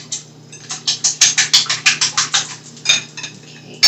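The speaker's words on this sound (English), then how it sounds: "we are going to take our 6 eggs and just lightly beat that" Six eggs are lightly beaten in a bowl, a fork or whisk clicking against the side in a fast, even run of close, bright taps that pauses briefly and then resumes for a few more strikes.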